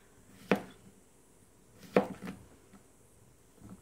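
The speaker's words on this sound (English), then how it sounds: "cut it in half, and then just chop chunks out of it" A knife chops chunks of food on a cutting board while preparing a healthy lunch: two sharp, fairly loud strikes about a second and a half apart, the second followed by softer cuts and a faint final tap.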